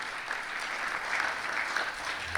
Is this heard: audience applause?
yes